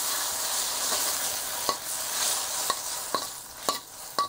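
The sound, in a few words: stirring eggplant with ginger and Sichuan chilies in a pan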